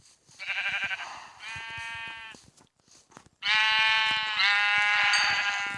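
Sheep in Minecraft Pocket Edition 0.15.1 bleat in two clear bursts, a nasal wavering baa and then a louder, longer pair of bleats, with soft clicks and footsteps in between.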